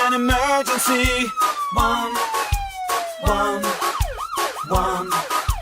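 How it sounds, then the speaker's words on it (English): A wailing ambulance siren sweeps downward within a children's emergency-number song about the St John NZ ambulance, woven into loud rhythmic music with punchy beats. "In an emergency, call for the ambulance."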